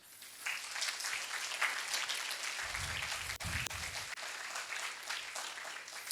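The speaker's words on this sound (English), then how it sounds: "Round of applause for Pedrevsky." Lecture audience applauding, a steady, moderately loud spread of clapping from many hands across the room that holds for several seconds.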